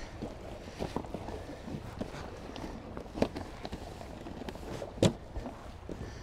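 Soft rustling and crinkling of a folding plastic kayak being rolled up and handled, with occasional sharper scrapes and thumps, outdoors with light wind noise.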